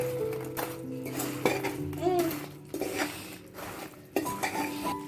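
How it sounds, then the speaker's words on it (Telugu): Bread pieces stirred into sugar syrup in a pan, with a spoon clinking and scraping against the metal in irregular strokes and faint voices, including a child's, in the background. "మనం ఈ బ్రెడ్ అంతా షుగర్లో డిప్ అయ్యే వరకు మొత్తం కలిపేసుకుందాం."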